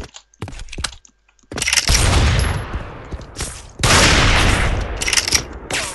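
Gunfire bursts in a video game, loud rapid shots in several clusters with short gaps between, alone with no talk.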